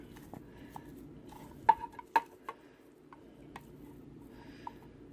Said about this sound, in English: you're just going to stir that in until that is completely melted